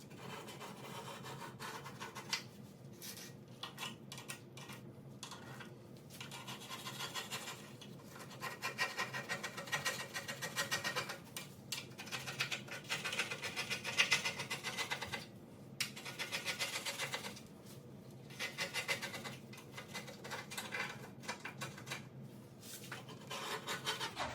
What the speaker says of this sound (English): I'm going to finish scraping this stuff off with the screwdriver